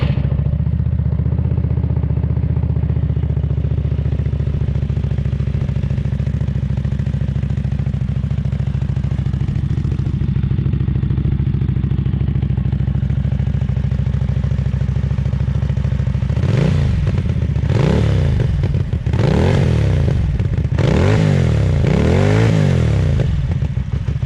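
A Jonway YY 400 motorcycle engine settles into a steady low idle, then about sixteen seconds in it is revved in several sharp, loud bursts that rise and fall, close to the microphone with no talk.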